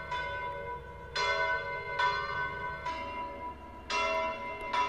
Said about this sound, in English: you can start to hear the comb filtering, because on this channel over here, I have a simple delay set up, and it's introducing a 1 millisecond delay